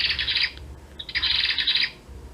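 A ruby-throated hummingbird gives two bursts of rapid high-pitched chirping twitters, separated by a brief pause, fairly faint over quiet background.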